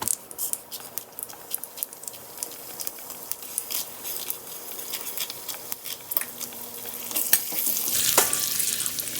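Urad dal and chana dal sauté in hot oil with cumin seeds and a pinch of asafoetida, giving a soft steady sizzle with faint crackles and stirring scrapes throughout, swelling a little louder toward the end.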